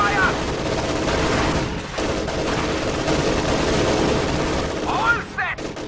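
Game battle gunfire from Company of Heroes 2 crackles as a dense fusillade of rifle and machine gun shots with distant booms, continuous throughout, with brief unit voice callouts over it.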